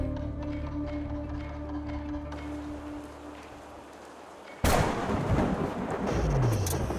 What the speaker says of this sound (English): As the thunder subsides, you realise how with every passing loop it seems to startle you a little less